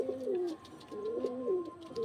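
Home-bred pigeons in a loft give repeated soft, rolling coos, several overlapping calls rising and falling close by, with no speech.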